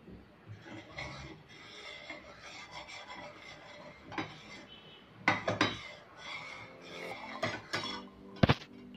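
A spoon scrapes and rasps against a pan while custard powder is stirred into milk over low heat, producing steady rubbing strokes with a few sharper metallic clinks near the end.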